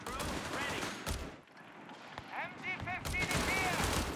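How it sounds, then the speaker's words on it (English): Machine gun fire in Company of Heroes 3, rattling bursts in a busy real-time strategy battle, fairly faint and mixed with other combat noise, with a brief lull midway before it picks up again. "There's a machine gun coming out for VHSmonster"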